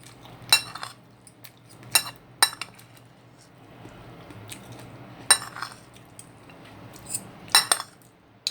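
Metal fork clinking sharply against a plate during a home lunch of bihon noodles with sardines, cauliflower, carrots and tomato, with several separate close clinks spaced a second or two apart over quiet room tone.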